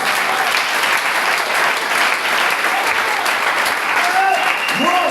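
A church congregation applauds with sustained, dense clapping throughout, and voices rise faintly in the crowd near the end.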